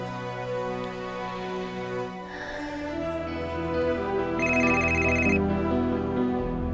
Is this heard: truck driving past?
no